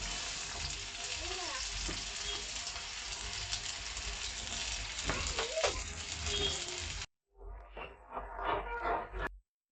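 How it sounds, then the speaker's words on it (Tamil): Onions fry in oil in a kadai for Mumbai-style tawa pulao with a close, steady sizzle and some stirring. It cuts off abruptly and gives way to a quieter, different stretch of sound. "எண்ணெய் ஊத்திக்கலாம். வெங்காயம் போட்டுக்கலாம்."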